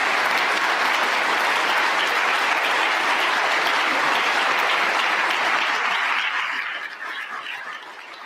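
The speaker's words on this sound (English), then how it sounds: "He's getting pretty good applause." A large crowd applauds at the close of a Marco Rubio speech, a loud, dense and sustained wash of clapping that thins and fades slightly over the last seconds.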